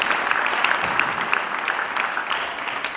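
A small group claps together during an indoor basketball coaching clinic, a brief steady patter of hands at moderate volume with no talking over it.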